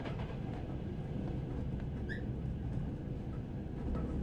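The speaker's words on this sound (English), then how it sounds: "Are we on a train? Oh, we are on a train." Steady low rumble and rattle inside a moving train carriage in the horror game Reveil, a continuous droning rail noise with a faint brief squeak partway through, and no voices.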